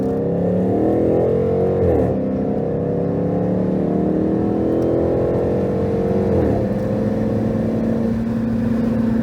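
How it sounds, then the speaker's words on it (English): A Dodge, Chrysler, Jeep or Mercedes car with manual shifting accelerating hard on a highway; a loud, steady engine drone rises in pitch, with brief dips at gear changes around two and six and a half seconds, no talking. "Okay, we're gonna hit the highway and we're gonna try the manual shifting. We're gonna aggressively accelerate."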